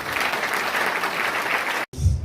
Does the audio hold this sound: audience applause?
yes